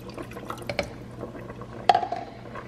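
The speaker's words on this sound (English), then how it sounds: "pour the rest of the milk in." Milk is poured into a pot of thickening winter soup, giving soft, close liquid splashes and a few sharper drips in short bursts with no talking.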